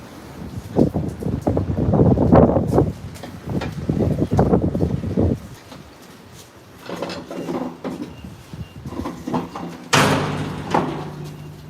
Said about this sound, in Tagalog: Kaya lakas ng hangin